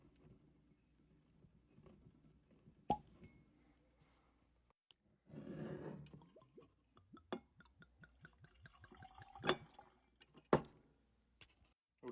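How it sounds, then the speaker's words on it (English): Bourbon bottle from double charred barrels opened with a single sharp cork pop, followed by faint trickling and dripping as liquor is poured into a glass, quiet and close. "That was a good cork pop, no doubt about it."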